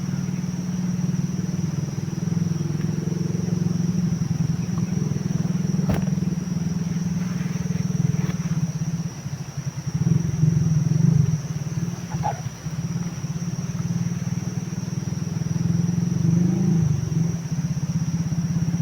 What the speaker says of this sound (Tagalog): Andar ang motor.